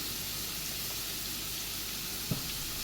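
Chopped onions sauté in a pan with a soft, even sizzle that holds steady throughout, with one small clink near the end.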